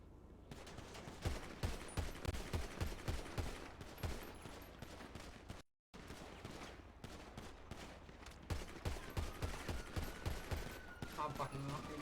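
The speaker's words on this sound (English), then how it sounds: "They're running bullets already" Sustained gunfire in a GTA roleplay game, rapid bursts of shots and volleys running for several seconds with a brief dropout midway, under faint voices.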